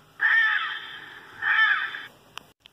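A macaw from the Peruvian rainforest gives two loud, harsh, raspy squawks, each drawn out about a second, followed by a couple of brief faint clicks.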